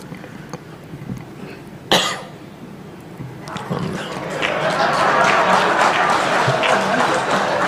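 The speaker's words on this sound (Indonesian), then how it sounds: "Saya batuk tadi" A speaker at a political party's national coordination meeting coughs once sharply at the podium, then applause and crowd noise swell and build steadily behind him in a large hall.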